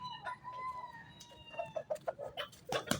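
A pure red junglefowl (labuyo) caught in the mountains clucks in a series of short, close, fairly loud calls, with a brighter crow-like call near the end and no talk.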